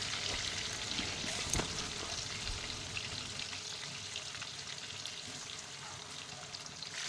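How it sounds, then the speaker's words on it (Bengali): Chicken chaap fries in hot oil until reddish, giving a steady, close, fairly loud sizzle throughout with a brief sharper crackle early on and no talking. "গরম তেলের মধ্যে দিয়ে দিচ্ছি এবং লাল লাল করে ভেজে তুলে নেব"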